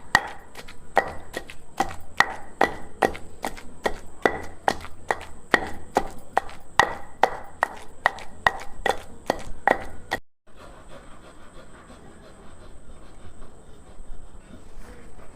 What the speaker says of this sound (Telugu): కట్ చేసి ఇలా దంచుకోవాలి.